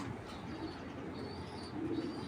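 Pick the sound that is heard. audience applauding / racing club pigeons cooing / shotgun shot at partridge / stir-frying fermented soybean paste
racing club pigeons cooing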